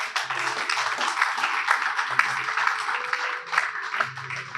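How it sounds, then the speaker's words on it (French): A church congregation bursts into sustained applause and cheering, a dense, steady wash of clapping that holds for several seconds at close range. "On acclame la parole du Seigneur."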